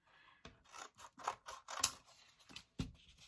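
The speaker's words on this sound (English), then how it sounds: "I think I'm going to cut a fatter piece of cardboard." Scissors cut through a thick strip of cardboard for an art project, giving a run of rough, crunchy snips and rasping strokes, close and fairly loud, that end in a sharp final cut.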